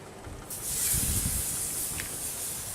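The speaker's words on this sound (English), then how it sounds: "we're just going to throw these on the grill" Duck breasts go onto a hot grill at medium-high heat, and a sudden steady sizzling hiss starts and carries on, moderately quiet and close.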